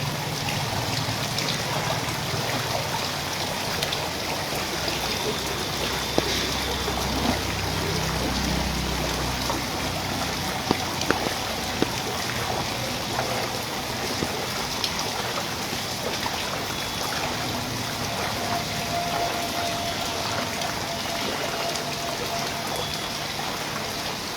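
Rainwater pours over a flooded street in English Bazar where a drain has overflowed during continuous rain, a steady full wash of rushing, trickling water with scattered drips and no break, heard up close.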